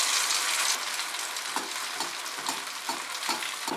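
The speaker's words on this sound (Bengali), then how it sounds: "এবার আমি কড়াইতে তেল গরম করে ব্যাটারটা ছেড়ে দিলাম, তবে মাঝারি আঁচে কিন্তু আমাদের ব্যাটারটা ছাড়তে হবে।" Malpua batter frying in hot oil in a kadai over medium heat gives a steady, loud sizzle throughout, with a few soft stirring bursts recurring at regular intervals and no voices.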